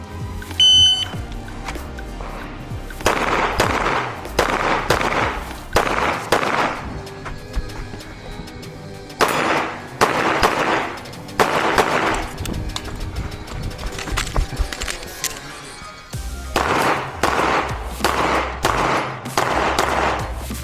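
Rapid pistol shots fired during an IDPA defensive pistol match stage at the El Dorado Gun Club, coming in several dense bursts with short pauses in between, loud and close, with no talking.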